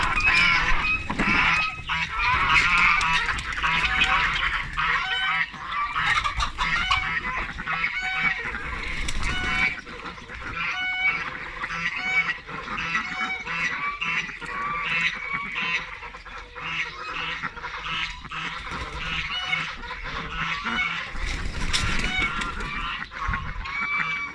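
Ducks let out in the morning fill the air with continuous quacking and honking, many birds calling at once close by, with a voice occasionally heard among them.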